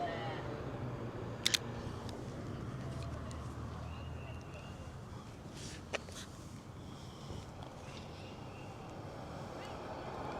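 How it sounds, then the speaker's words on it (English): A Sony A7C mirrorless camera fires its shutter on an outdoor photowalk near a church, a few sharp isolated clicks cutting through steady wind and background noise. "As much as I like shooting on the Sony A7C, the shutter sound, it's not that great"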